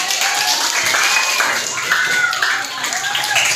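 A class of schoolchildren claps together, a dense, close burst of applause with light crowd murmur running throughout the short stretch.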